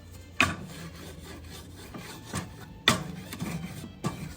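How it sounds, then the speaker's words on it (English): A grill grate is scraped clean before duck is grilled, with a few separate rough raking strokes: sharp scrapes near the start and middle and softer rubs between, fairly quiet with no talk. "Clean your grill grates."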